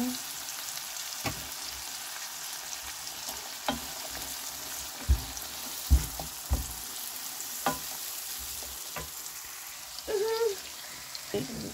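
Spice masala sautéing in oil in a pan, a steady low frying sizzle with occasional stirring scrapes and clinks over the whole span, moderately close.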